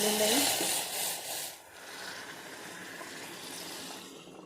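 Water poured from a vessel into a pressure cooker holding rice with ghee, a brief splashing gush at the start that tapers into a soft trickle, then fades to quiet.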